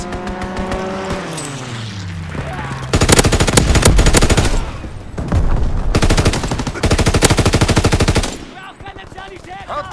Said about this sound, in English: Pilot inbound, strafing the target.